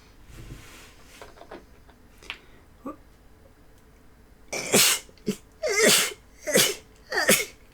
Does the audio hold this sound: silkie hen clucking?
no